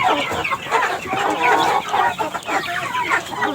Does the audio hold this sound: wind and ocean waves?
no